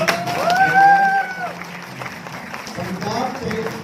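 Audience applause at a training session in Panipat as a singer is invited on stage, a crowd clapping steadily beneath a loud amplified voice, the clapping thinning out after the first second and a half.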